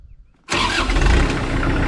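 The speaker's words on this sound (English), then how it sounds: "And that's it, your tractor has started." A tractor engine cranks and catches after a near-silent pause, then settles into a loud, rough, steady running roar close by.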